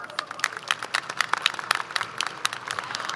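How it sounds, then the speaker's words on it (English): Scattered applause rises from the audience at a high school graduation ceremony for the district superintendent: a thin, uneven patter of claps, moderately distant and fairly quiet, lasting about three seconds. "Let's give our Superintendent a big round of applause."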